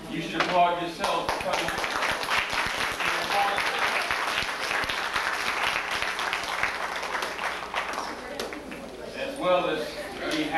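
An audience at a youth summit applauds, sustained dense clapping across the room with a few louder bursts near the start and end, and voices talking over it.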